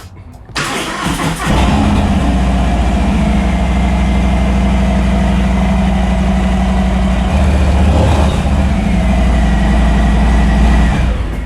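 A Harley-Davidson Softail FXDR motorcycle engine with a Vance & Hines FP3 Stage 1 setup cranks and catches after a brief pause, then settles into a loud, steady idle rumble close by.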